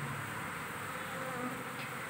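A steady, faint drone of buzzing honeybees being moved into a hive box, continuous and even throughout, with no voices.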